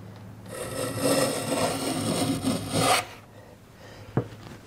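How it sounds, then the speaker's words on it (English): A hand plane shaves wood for a sliding dovetail joint, making one long, close, rasping stroke that fades out, followed by a soft knock. "So I don't need to take anything off back here, but I need to remove material"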